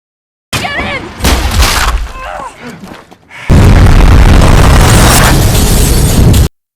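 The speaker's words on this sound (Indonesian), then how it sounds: "Beruntung, mereka berhasil menghindari ledakan besar yang terjadi." A loud, sudden blast erupts into a sustained roaring rumble after a stretch of sharp clattering sounds and vocal cries.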